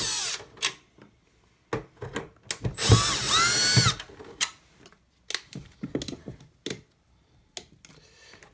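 A screwdriver works Phillips screws out of an Atari 7800 console case, giving short scattered clicks and creaks plus one brief, louder whirring burst, all nearby and fairly quiet.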